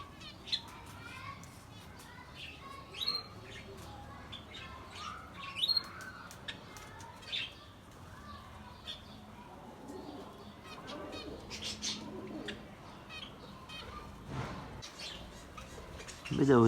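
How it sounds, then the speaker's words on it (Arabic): Birds cooing and chirping around a feeding spot, with soft pecking and rustling, scattered calls over a quiet background and brief faint voices. "بدأت الطيور تنزل تاكل هنا"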